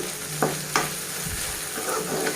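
Okra being stirred as it fries in a pan, with a soft continuous sizzle punctuated by a few sharp scrapes and clicks of the spoon against the pan.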